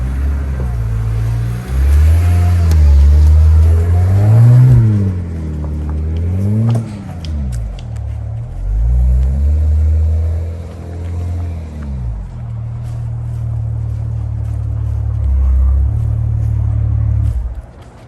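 A BMW 335i with the N54 engine and a freshly replaced axle pulls away and drives slowly, its engine rumbling and revving up and down in uneven surges, with low drivetrain drone throughout and brief talk over it.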